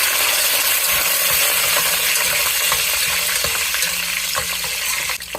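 Mustard seeds, cumin, chana dal and garlic frying in hot oil for tomato rice, a dense steady sizzle with faint tapping and a louder clink near the end.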